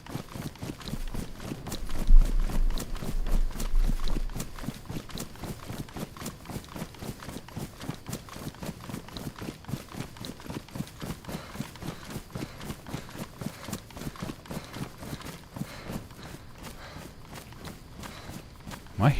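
Steady run of footsteps in the survival video game DayZ on the Livonia map, a regular quick rhythm of soft thuds continuing throughout, moderately close and alone.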